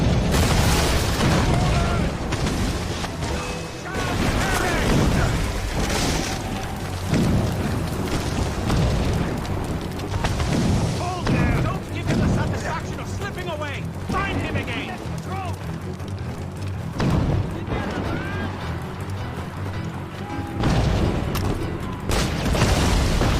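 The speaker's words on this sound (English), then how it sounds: "Chevalier's using mortars" Mortar explosions in Assassin's Creed Rogue, a dense, continuous rumble of booms and blasts running under frequent talking voices, loud throughout.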